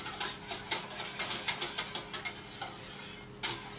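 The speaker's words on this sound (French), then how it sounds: "Il faut remuer aux extérieurs de la casserole et au centre" Chocolate flan cream stirred in a saucepan, a spoon scraping and clinking against the pan in a steady rhythm of soft strokes, close and alone.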